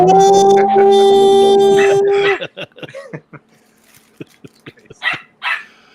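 A dog barks nearby in a quick series of short, sharp barks, coming after a steady tonal sound in the opening seconds.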